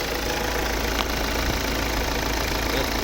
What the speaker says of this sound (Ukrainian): Ну, ось робота двигуна. Ну, Тихо, рівно все працює.